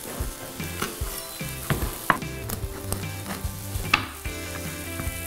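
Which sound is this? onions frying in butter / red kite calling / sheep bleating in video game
onions frying in butter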